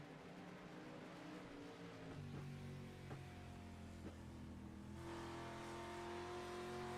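Onboard race car engine during a race at Kern, a steady sustained drone with shifting pitch that holds near and loud throughout, rising brighter toward the end.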